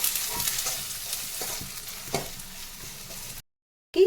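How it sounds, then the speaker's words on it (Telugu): Carrots and curry leaves sizzle steadily in a hot pan with scraping stirs, alone and fairly loud, cutting off briefly near the end before a short clatter. "మనము సన్నగా తరుక్కున్న క్యారెట్, వీటిని వేసి కొంచెము దోరగా మగ్గనిద్దాం."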